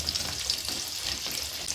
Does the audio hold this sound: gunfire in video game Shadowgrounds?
no